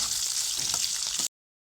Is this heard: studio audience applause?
no